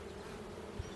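Honey bees hum steadily at a boxed beehive while building comb, a close, continuous drone with no talking.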